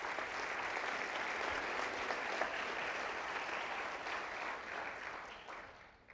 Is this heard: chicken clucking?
no